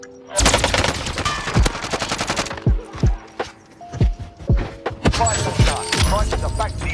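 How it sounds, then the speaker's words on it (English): Cold War MP5 submachine gun fire in the video game Warzone, loud rapid automatic bursts close up, several separate volleys with single shots between and sharp ringing impacts. "how OP the Cold War MP5 actually is in close quarter combat"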